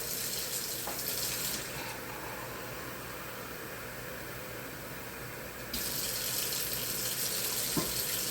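Steady rushing of water poured cup by cup into a pot of beef stew, continuous broadband hiss that briefly brightens in the middle, with a small clink near the end.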